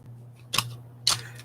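Scissors cutting a craft shape out of paper or card make two crisp, close snips about half a second apart over a faint steady hum.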